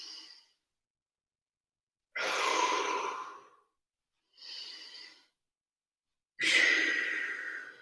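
Three deep breaths taken during a morning mobility breathing exercise: a short exhale, then two long, loud inhales or exhales separated by a softer one, each a clear breathy rush with silence between.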